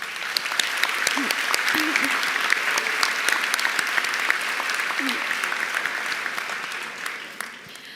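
At the 2018 Cape Henry Collegiate graduation ceremony, a large audience applauds warmly and continuously for eight seconds, with sharp individual claps standing out and a few faint voices rising from the crowd.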